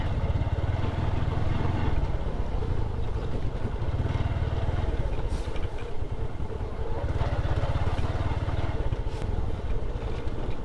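A motorcycle engine idles and runs with a steady, continuous drone on a dry rural road near the Holholiya rail bridge in Akkelpur, Joypurhat, filling the whole stretch with no speech.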